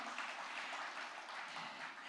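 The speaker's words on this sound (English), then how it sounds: "And I can give Mr. Gandhi a louder applause." Steady applause from a summit audience for Mr. Gandhi, a faint, even wash of many hands clapping at a distance for about two seconds.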